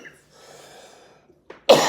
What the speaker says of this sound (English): Oh man, I hate coughing.